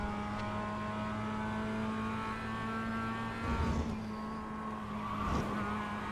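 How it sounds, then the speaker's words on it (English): A Mazda MX-5 production car in the iRacing video game revs in second gear, a steady tonal engine drone with brief tire scrubs, fairly faint and without talk. "Second gear, really revving up that engine"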